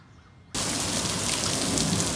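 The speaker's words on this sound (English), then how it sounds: "now we have a hailstorm" A hailstorm in Western Pennsylvania starts abruptly, then holds as a dense, loud, steady hiss and patter of hail and rain pelting the surroundings up close, with no talk.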